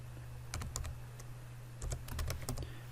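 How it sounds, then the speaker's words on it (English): Computer keyboard typing in a software setup session: two short bursts of several quick keystrokes each, close and fairly quiet over a steady low hum, with no speech. "and then we need to type something like here. I can type"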